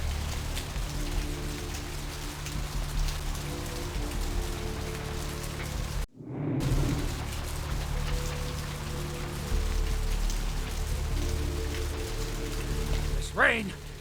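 Steady rain in the video game Vampire: The Masquerade – Bloodlines pours continuously with a low mechanical hum underneath, briefly cutting out midway before resuming, ending with a faint sweeping tone.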